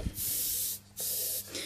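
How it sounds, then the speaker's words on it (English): A Copic airbrush blows air past the tip of a Ciao marker, making a breathy, close hiss of spray in three bursts with short gaps between them. "when you spray you get like the airbrush effect"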